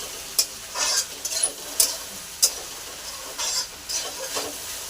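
Okra and potato frying in oil in a home kitchen, a low crackling sizzle broken by several sharp spatula scrapes and clinks at irregular intervals, close and with no talking.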